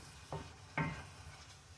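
Onions frying in olive oil in a skillet, with a faint sizzle underneath two brief scraping stirs of a utensil against the pan, close but quiet.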